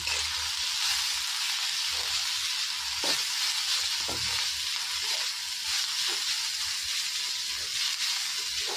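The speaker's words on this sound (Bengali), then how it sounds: "এবার আমার পেঁয়াজটা ভাজা হচ্ছে।" Chopped onion fries in a pan with a loud, even sizzle and hiss, broken by occasional low knocks of stirring, with no voices.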